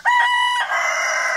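A rooster crows close by and loud, one full drawn-out cock-a-doodle-doo call with a rising opening and a long sustained tail, with no talking around it.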